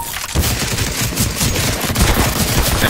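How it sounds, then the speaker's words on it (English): Rapid, dense gunfire from a CS:GO Valve deathmatch game: continuous overlapping shots and bursts sustained close and loud throughout, with no talking. "Hey, you're shooting."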